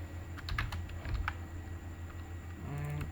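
Someone types on a computer keyboard while writing code, a quiet, irregular patter of key clicks in short bursts against a steady background hum.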